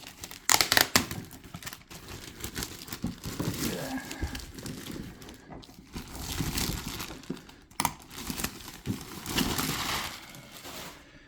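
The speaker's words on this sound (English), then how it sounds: "Let's get this plastic bag open and get Zuikaku out of here." Close, continuous crinkling and rustling of a plastic bag around a figure, with scattered crackles and tearing noises as it is pulled and worked open.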